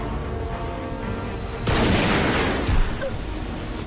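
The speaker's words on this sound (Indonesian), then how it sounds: "Terjadi tembak-menembak antara mereka berdua dan Bakusue terkena tembakan." Gunfire erupts in an action film scene, a dense burst of shots and blasts kicking in suddenly after a quieter stretch and continuing loudly to the end, with one sharper crack near the close.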